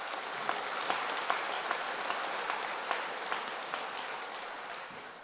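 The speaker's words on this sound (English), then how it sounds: "I think you deserve yourselves a round of applause" Steady applause from a graduation ceremony audience at Melbourne Polytechnic, a dense wash of many hands clapping with a few sharper claps popping out, sustained throughout and easing slightly at the end.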